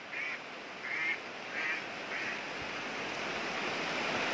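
Four quick duck quacks come in a short rhythmic series over a steady rushing wash of rain, moderately distant and fairly faint.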